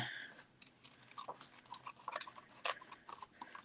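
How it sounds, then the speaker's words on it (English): Small non-ribbon scissors trim around a paper card, giving a quiet run of close, crisp snips and rasping paper cuts in an irregular rhythm. "We'll take a non-ribbon scissors and trim around it."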